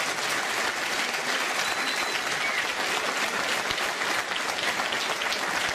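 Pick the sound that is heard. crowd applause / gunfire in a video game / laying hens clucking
crowd applause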